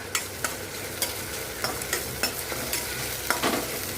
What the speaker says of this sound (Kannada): ಉಳ್ಳಾಗಡ್ಡಿ ಹಾಕಿ ಈ ಥರ ಫ್ರೈ ಮಾಡ್ಕೊಳಮಂತ ಹಿಂಗೆ ಫ್ರೈ ಮಾಡಿಕೊಂಡು